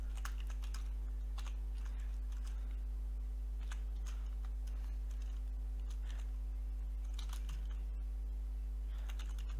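Python code being typed on a computer keyboard: irregular runs of light keystroke clicks over a steady low electrical hum, fairly quiet, with no talking.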